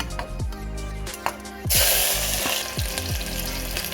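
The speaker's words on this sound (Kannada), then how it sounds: "ಸ್ವಲ್ಪ ಎಣ್ಣೆ ಹಾಕಿದ್ದೀನಿ ಈಗ ಈರುಳ್ಳಿ ಹಾಕ್ತಿದ್ದೀನಿ" Onions go into hot oil and fry, jumping to a loud, dense sizzle partway through, over a background of repeated low tonal sounds and light utensil clicks, with no talking.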